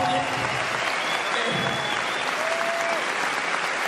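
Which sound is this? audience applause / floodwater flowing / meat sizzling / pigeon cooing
audience applause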